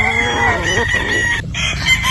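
A young game fowl stag, a tenheads battle stag bred in Cebu, gives one loud, close crow that rises and trails off, followed by brief clucking.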